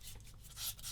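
Sanding a 1/35 Bronco Mk XXIII plastic model submarine kit with a soft sanding pad, heard as short close rasping rubs that swell louder toward the end.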